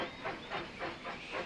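Steam train departing in Railroad Tycoon 3, with rhythmic chuffs of steam hissing out about every quarter second, faint and distant, with no talk.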